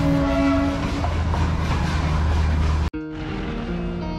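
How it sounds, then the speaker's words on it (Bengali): The Darjeeling toy train runs near Ghoom station, a loud close rumble with clattering wheels and a long horn, ending abruptly before a quieter, steadier hum. "উপভোগ করেছিলাম এই টয় ট্রেনটিকে"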